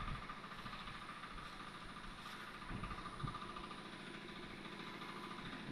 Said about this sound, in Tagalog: narinig kayong maingay na motor kasi nagkakarga ng tubig